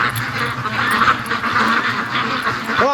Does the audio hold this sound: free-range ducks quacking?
yes